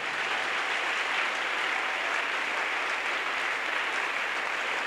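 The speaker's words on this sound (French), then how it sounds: "Now let us clap." Steady, dense clapping fills a large gathering as a congregation at an evangelization and healing crusade applauds together, holding an even loudness throughout with no pauses.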